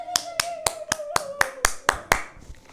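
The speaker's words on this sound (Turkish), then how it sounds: "Alkışlayalım İlhanur'u" A small classroom applauds a student, but only one pair of hands is evident: about nine crisp, evenly spaced claps in a steady rhythm, fading at the end, with a faint tone underneath.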